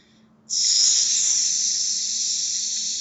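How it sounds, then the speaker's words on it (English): A sword stuck in a pool of black tarry oil sizzles with a sudden, steady hiss that starts sharply and holds loud and close, with no talk over it. "like sizzling sound as the sword is just stuck in this fluid on the ground itself"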